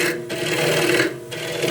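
A lathe tool scrapes the inside of a spinning wooden bowl, giving a steady, loud rasping hiss with a faint hum underneath, easing briefly near the start and again toward the end.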